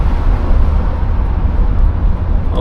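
A 1986 Chevrolet Monte Carlo SS cruising at half throttle, heard from inside as a steady, loud low engine drone mixed with road rumble, with no voices.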